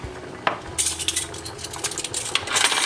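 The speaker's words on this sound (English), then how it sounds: "So I'm just putting a teaspoon of stock powder in that." A teaspoon of stock powder goes into a pot of rice and quinoa, with sharp metallic spoon taps and clinks against the pan and a few scraping stirs close by.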